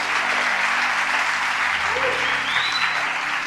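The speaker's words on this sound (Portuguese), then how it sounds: "Dá uma salva de palmas a Jesus aí." Steady congregation applause in a church service, a dense wash of clapping filling the whole stretch, with a few faint voices and a brief whistle-like tone mixed in.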